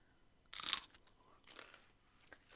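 Fresh snap peas are crunched and chewed close to a microphone. One loud, sharp bite comes first, followed by quieter, softer chewing crunches with no talking.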